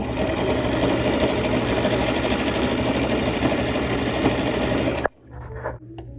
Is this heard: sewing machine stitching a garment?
yes